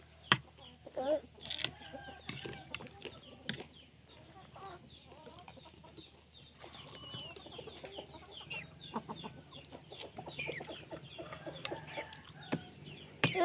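Chickens cluck and call close by while being fed instant noodles in a Thai village yard, a steady busy chatter with a few louder squawks, under people talking.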